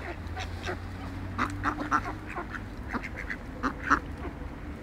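Several domestic ducks of mixed breeds quack repeatedly near a pond, short nasal calls overlapping in irregular bursts over a steady low hum.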